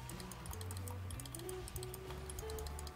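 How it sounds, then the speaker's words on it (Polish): Rapid computer keyboard typing during gaming, a dense stream of quick clicky keystrokes running steadily throughout over a background of game music and effects. "Także będzie napieprzanka w klawiaturę Chopin"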